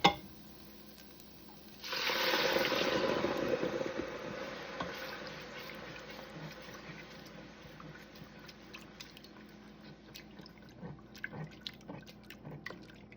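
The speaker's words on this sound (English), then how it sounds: "when you pour in your first can of coconut milk, be sure to scrape the bottom" Coconut milk pours from a can into a pan for a creamy harissa stew, a quiet liquid gush starting after a short pause and easing into a soft trickle with faint drips.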